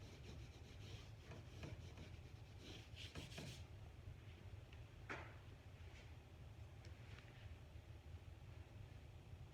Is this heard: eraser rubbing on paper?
yes